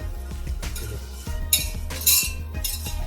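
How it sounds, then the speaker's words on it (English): All-purpose flour being whisked into melted butter in a pan for mac and cheese, with quick rhythmic metallic clinks and scrapes of the whisk against the pan, close and continuous. "Now you want to whisk this now."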